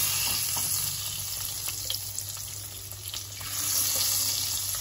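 Egg pieces frying in a pan as they are turned to cook on both sides, a close, even sizzle with faint crackles throughout and no talk.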